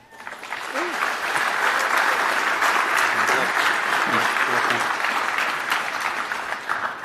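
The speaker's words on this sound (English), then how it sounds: "Give him a warm round of applause." A warm round of audience applause for a performer introduced as Delta Zero, loud and dense from start to finish with a few voices calling out inside the clapping.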